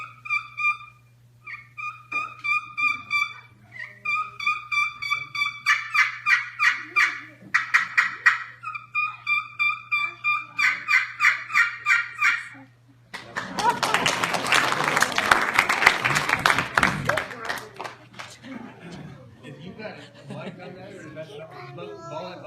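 A turkey call imitates a hen or jake turkey in the fall, sounding a long series of rhythmic, hen-like yelps in quick pulsed runs, followed by a harsh, raspy burst that fades out.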